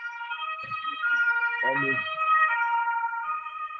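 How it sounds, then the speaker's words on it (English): An ambulance siren wails with rising and falling tones, moderately close, while a voice briefly talks underneath. "there's an ambulance passing by"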